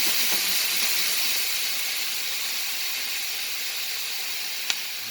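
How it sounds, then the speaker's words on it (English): Red wine vinegar hits a hot pan to deglaze it while making pollo saltado, giving a steady, loud steamy hiss that runs unbroken throughout with a faint click near the end. "we're going to go ahead and hit it with a little bit of red wine vinegar. And this is what's going to deglaze this pan."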